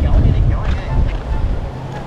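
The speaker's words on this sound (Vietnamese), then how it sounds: "Ui gió to ấy." Strong sea wind buffets a beach during kite flying, a loud gusty rumble battering the microphone while people talk nearby.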